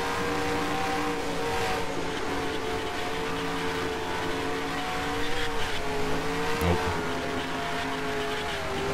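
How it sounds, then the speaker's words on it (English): NASCAR Cup car at around 240 mph in NR2003, a steady loud engine drone holding a high, nearly constant pitch with a slight dip and a brief thump near the end, no talk. "you get to hear what a NASCAR Cup engine sounds like at 240 miles an hour"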